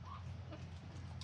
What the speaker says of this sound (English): Poncho, the birthday rooster.